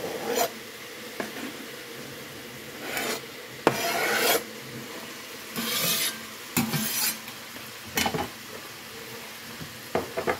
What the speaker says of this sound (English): we're going to add 1 small onion and 1 small green pepper